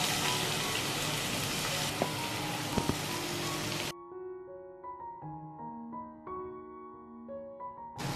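Crushed shallots hit hot oil with a loud, dense, close sizzle that runs steadily for about four seconds, then cuts off abruptly as soft melodic music takes over.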